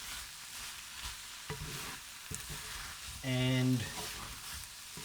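A kumara stir-fry sizzles softly and steadily in a pan during its final cook, with a few light utensil taps and a brief spoken word partway through.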